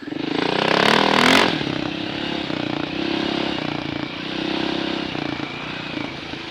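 Kawasaki KLX250S dirt bike ridden on a dirt trail, its single-cylinder engine revving up loudly, then settling into a steady buzzing drone with rising and falling throttle.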